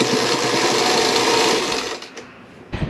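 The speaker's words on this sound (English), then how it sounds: "And then sew these two pieces together." A sewing machine stitches two pieces of tablecloth fabric together, a steady close whirring hum that runs for a couple of seconds, then slows and stops with a brief final burst.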